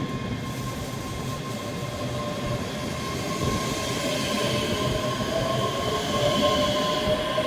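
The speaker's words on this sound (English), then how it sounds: "Departing out now is the 1412 Scotrail service from Dunblane to Edinburgh Waverley" A ScotRail Class 385 electric train departs Edinburgh Gateway station, giving a continuous close rumble of wheels on rails with a steady motor whine and faint squeal building slightly throughout.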